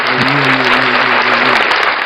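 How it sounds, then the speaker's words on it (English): Audience applause at a motivational speaker's talk show, a steady dense wash of hand clapping that stays loud and even for about two seconds with no talking over it. "Clap your hands."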